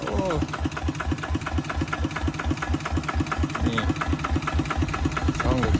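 A tractor engine with an aftermarket exhaust pipe idles with a loud, rapid, throbbing exhaust chug, close by and steady throughout, with someone talking over it.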